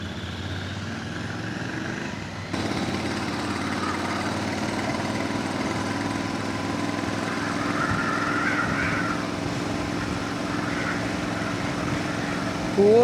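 A motorcycle engine drones steadily during a ride toward Wayanad, with a low continuous hum that gets louder after a brief quieter opening, along with some wind and road noise.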